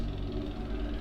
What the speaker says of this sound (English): You can hear that boat motor running in the background.